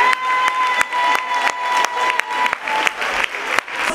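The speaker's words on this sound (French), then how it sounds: "On les applaudit bien bien fort." An audience at a Christmas show for young children gives steady, vigorous applause, with crisp individual claps standing out over the continuous patter and a little crowd noise.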